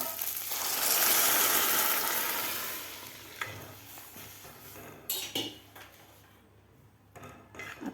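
Milk, sago and dry fruit cook in a pan for sabudana kheer, giving a broad frying sizzle that swells and then fades, followed by a few scraping stirs and utensil clinks close by.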